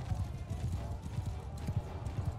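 Massed cavalry horses gallop in Mount & Blade II: Bannerlord, a charge of about 150 mounts making a dense, rhythmic thunder of hoofbeats, with a faint whinny and someone speaking over it.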